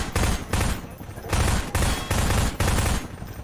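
Enemy gunfire in Half-Life 2 comes in four loud bursts of automatic fire, each about half a second long, separated by short gaps.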